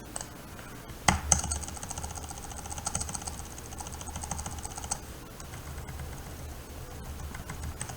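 Keys clatter on a computer keyboard in quick irregular bursts, close and moderately loud, with one sharper knock near the start and no talking over it.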